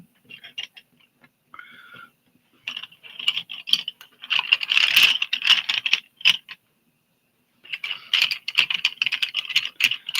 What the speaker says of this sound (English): Trying not to blow your eardrums out by moving pencils around.